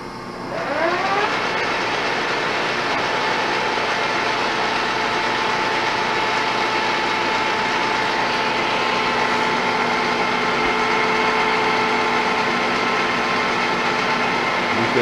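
A Pratt & Whitney Model B lathe runs steadily in A2 back gear at about 490 RPM, a continuous mechanical whine and hum with tonal harmonics that rises as it spins up and then holds level throughout.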